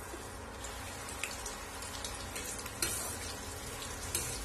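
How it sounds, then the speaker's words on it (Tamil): Raw banana pieces frying in hot oil, a continuous crackling sizzle with occasional sharper pops and stirring clatter, loud and close. "இதுல நம்ம இந்த வெட்டி வச்சிருக்கிற வாழைக்காவை பொரிச்சு எடுத்துக்கலாம்"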